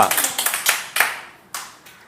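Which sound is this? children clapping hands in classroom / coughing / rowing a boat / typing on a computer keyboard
children clapping hands in classroom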